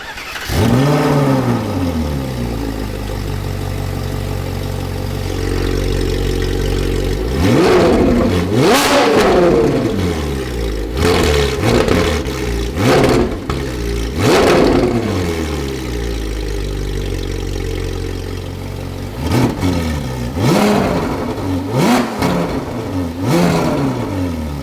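Ferrari 458 with straight-pipe exhaust starts up with a loud bark, then idles and revs repeatedly in sharp rising-and-falling bursts, staying below about 3,000 RPM, close and powerful with no talking.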